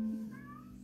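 Pet cat meowing once, a short faint meow heard indoors over a low background hum.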